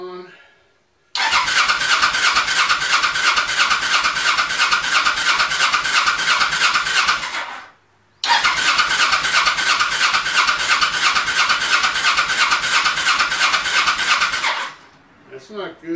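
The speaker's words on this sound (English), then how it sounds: "Crank it for a few seconds with the ignition off just to get some oil pressure up." A motorcycle engine in a bike restoration cranks over with the ignition off, its starter churning in two long rhythmic bursts of about six seconds each, separated by a short pause.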